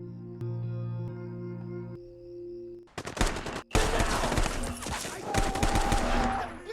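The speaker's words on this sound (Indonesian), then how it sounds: "meliput baku tembak yang terjadi antara kaum separatis dan kaum loyalis pemerintah" Gunfire in a firefight between separatists and government loyalists from the film Civil War (2024): after a sustained musical tone, dense rapid shots erupt, loud and close, in rattling bursts under a roaring battle din.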